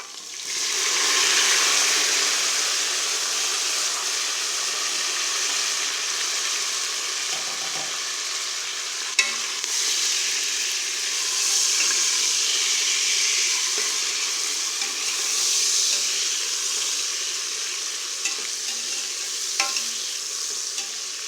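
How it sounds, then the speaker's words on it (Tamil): Onions and tomatoes sauté in a pan for chicken biryani, giving a steady, bright sizzle that holds throughout with a few soft stirring scrapes and clicks, close and continuous, with no talking. "நல்லா ஒரு ஃபைவ் மினிட்ஸ் வணங்கட்டும் வெங்காயம் தக்காளி நல்லா வணங்கிருச்சு"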